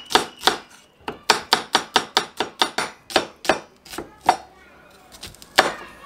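Onion being finely sliced with a knife on a board for a crispy-onion burger: a quick run of sharp, close chopping taps in a steady rhythm, then a pause and a few slower scattered cuts.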